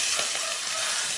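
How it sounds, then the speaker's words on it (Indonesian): Pindang tuna fish frying in hot oil, a steady close sizzle with bubbling crackle running throughout, no voices. "Kemudian kita akan goreng ikannya."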